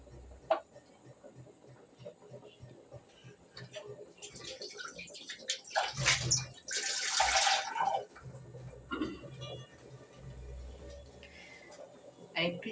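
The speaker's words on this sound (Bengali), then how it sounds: "আর একটু জল দেবো আমি।" Water poured into a pot of vegetable and chicken soup, a bright splashing pour rising mid-clip amid kitchen clatter and faint room noise.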